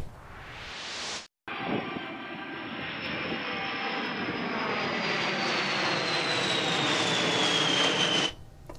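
Vintage warbird aircraft flying over an air show at Abilene Regional Airport, a loud sustained engine roar that swells and sweeps past with a falling whine, preceded by a brief gap.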